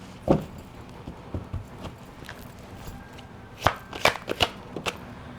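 An oracle card deck is shuffled close by in soft riffling bursts and taps, irregular and separated by short pauses.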